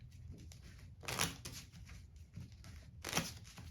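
Soft papery riffling and rustling bursts, two louder ones standing out, as playing cards are shuffled close by in a quiet room.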